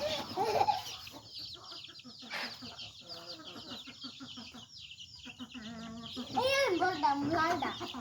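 Several backyard hens cluck and squawk in bursts as a boy chases and catches them, with the loudest cackle near the end and voices of a woman and child mixed in.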